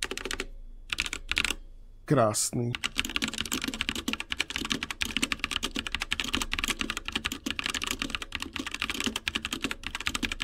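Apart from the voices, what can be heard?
typing on a cheap mechanical keyboard, keyboard sound test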